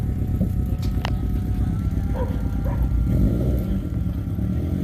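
A couple of puppies bark inside a Land Cruiser, small yaps buried under a constant loud rumble of engine and road noise from the moving vehicle.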